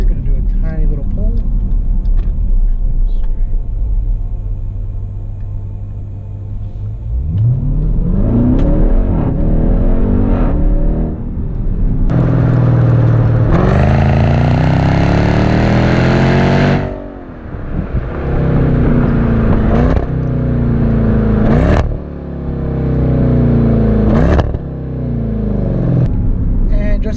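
A Jeep Trackhawk with a Hemi V8 accelerates hard on a straightaway, its engine note climbing loud and close in a sustained pull, easing briefly and then rising again, with a driver talking over it.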